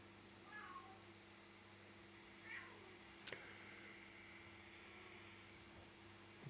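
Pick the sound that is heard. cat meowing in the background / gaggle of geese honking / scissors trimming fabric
cat meowing in the background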